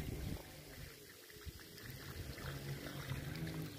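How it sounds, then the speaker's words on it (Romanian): Water is poured from above onto the soil around a newly planted thuja, making a steady, soft splashing trickle that runs continuously and quietly with no voices. "Timp de 10 zile îi udăm cu aproximativ 2 litri de apă"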